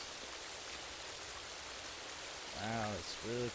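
Heavy rain in the video game Rising World pours down as a dense, even hiss that stays constant throughout, with a voice speaking briefly near the end.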